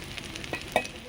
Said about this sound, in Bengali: এভাবে সবগুলো বড়া ভেজে নেব